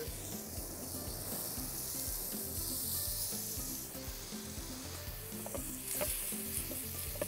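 Tuna steaks sizzle steadily in a hot frying pan with occasional stirring scrapes and small crackles, continuous and close throughout, with one brief spoken word.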